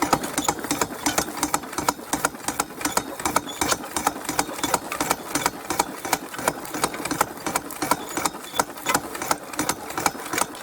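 A drywasher gold mining machine runs steadily in the gold fields, its small engine chugging with a fast, even rattling pulse that stays loud and continuous throughout, with no voices over it.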